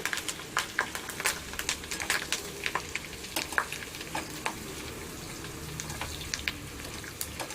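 Chicken 65 fries in hot oil with curry leaves, giving a steady close sizzle dotted with sharp crackles and pops throughout.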